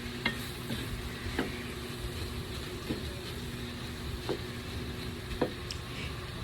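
Carrots and minced pork frying in a pan for spring roll filling, a soft steady sizzle with occasional clinks and scrapes of stirring, close and moderate in level.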